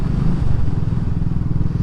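A Royal Enfield Classic 500 motorcycle cruising at a relaxed road speed, its steady low engine thump and rumble running close and loud throughout without a break.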